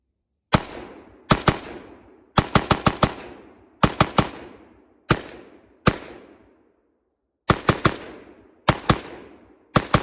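Rapid bursts from an AK rifle fitted with a CMC trigger, fired outdoors: sharp, loud volleys of two to four shots each, separated by short pauses, with ringing echo trailing every burst and no talking.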